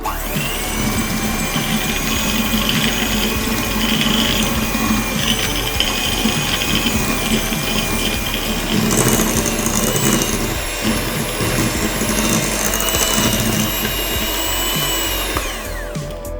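An electric mixer beats white sugar toward a creamy texture for a coffee cake, a loud, steady motor whir with a gritty churning layer that runs without pause before cutting off at the end.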